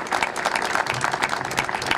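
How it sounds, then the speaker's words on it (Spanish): Audience applause for a municipal government team at an anniversary ceremony, a steady dense patter of many hands clapping for about two seconds, fairly loud and continuous. "Un aplauso para ellos, sí, señor."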